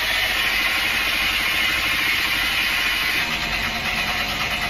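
A motorcycle engine runs loud and steady at high RPM, a dense continuous roar held without pause, close to the microphone with no talking.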